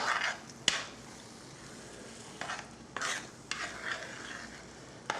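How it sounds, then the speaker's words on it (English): A spoon stirs yakitori sauce ingredients together in a pan, with scraping strokes and sharp clinks of metal against the cookware at irregular intervals over a faint background hiss, close and fairly quiet. "Okay, and we stir it all together."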